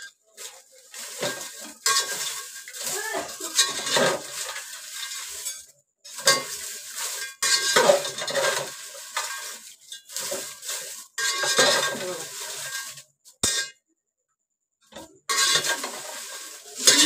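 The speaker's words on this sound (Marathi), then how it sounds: "अशा प्रकारे मी सगळ्या मिरच्या मी भाजून घेते" Dried chillies roasting in a pan for homemade Malvani masala, with intermittent sizzling and stirring scrapes and occasional clinks of a utensil, broken by short quiet gaps.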